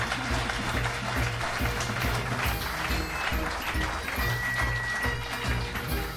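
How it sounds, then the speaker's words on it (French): An audience at a cultural centre applauds the lead candidates of the electoral lists with sustained, dense clapping that holds at an even, moderate level throughout. "Peut déjà les applaudir"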